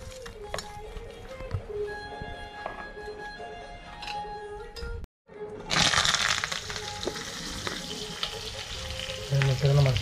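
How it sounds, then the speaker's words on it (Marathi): Onion and curry leaves frying in hot oil for a tribal-style Bombay duck curry, a steady close sizzle that cuts out briefly, then bursts louder and brighter as more goes into the pan, with faint clinks. "मित्रांनो मस्त कांदा आणि कढीपत्ता आपण तेलामध्ये फ्राय करायला टाकलं."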